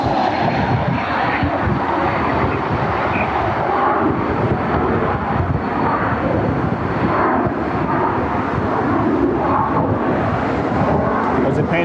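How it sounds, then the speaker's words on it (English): A business jet roars steadily overhead at Cleveland Hopkins airport, a loud continuous engine rumble mixed with gusty wind noise against the microphone. "I didn't even realize there was a business jet out there."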